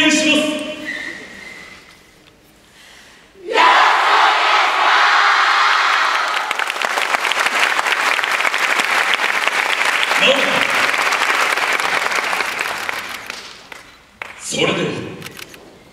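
A festival crowd claps and cheers steadily for a yosakoi dance performance by a Kobe student team at the Sakai Yosakoi Kaeru Festival, Big-I venue. The clapping holds loud and dense for about ten seconds, with voices over it before and after.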